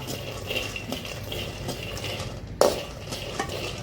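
Chillies dry-roasting in a pan, stirred with a utensil: a faint sizzle and quiet scraping, then a single sharp clink near the end.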